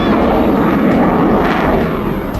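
Rafale fighter jet engine roaring loud and steady as a broad, continuous rumble, with no voices over it.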